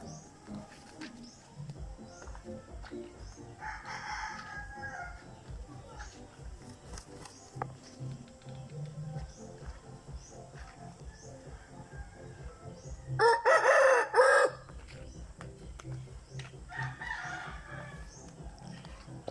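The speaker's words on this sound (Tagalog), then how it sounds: "Ito naman ang ating stag and broodcock." Gamecock roosters, stags and broodcocks, crow in the open at several points, with one loud close crow midway and fainter ones before and after, over background noise and someone talking.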